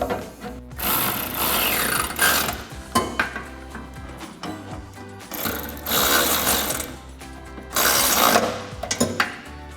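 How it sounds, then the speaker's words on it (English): A 16mm socket tightens bolts on a BARDE front bumper being installed on a 2018-2020 Ford F-150, with bursts of loud ratcheting and metallic clatter separated by short pauses, no talking. "we can take a 16mm socket to tighten those down"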